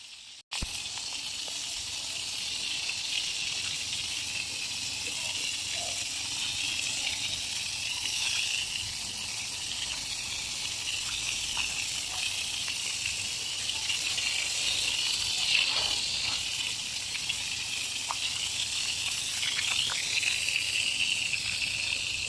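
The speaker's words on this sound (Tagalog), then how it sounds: "Na-spray na po natin palabas yung mga dumi ng sahig natin dito sa labas." Steady water spray hissing across a concrete garage floor, blasting dirt outward, a continuous close rushing wash without speech.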